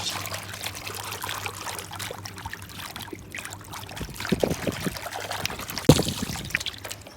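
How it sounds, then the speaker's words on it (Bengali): Water trickles and pours into pigeon drinkers at a loft, a continuous thin stream with a few louder splashes and clunks of containers midway, close and fairly faint, without talk. "পানি ভরা আমার প্রায় শেষ"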